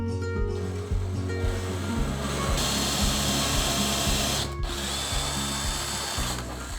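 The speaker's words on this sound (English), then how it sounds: "we can drill our holes that we marked" A power drill whirs loudly and steadily, its pitch rising and dipping as it bores holes into a shower screen, with brief pauses between bursts.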